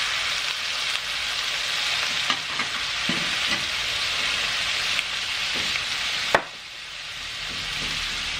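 Meat frying loudly in a pan after a splash of cooking wine, a dense close sizzle throughout with a few scraping stir strokes and one sharp clack of a utensil near the end.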